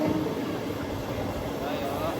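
Rumble of a train on the rails, heard around Tanuku station while the Circar Express, 17644 Kakinada Port–Chengalpattu, waits there; steady close rolling noise under a speaking voice.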